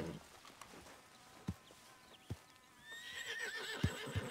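A horse in the video game Red Dead Redemption 2 gives a clear, fairly close whinny near the end. A few soft hoof thuds and faint ambient game sound come before it.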